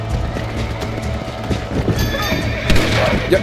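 In Red Dead Redemption, a horse whinnies over the clatter of running hooves, with a busy background of game sounds and some voice activity.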